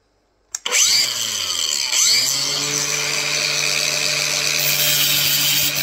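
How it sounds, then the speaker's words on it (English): An angle grinder starts up and cuts into brick-effect kitchen tile, a loud, close, continuous high whine with a brief dip in pitch as the disc bites, running steadily for several seconds. "Just wants cutting a little bit with a grinder."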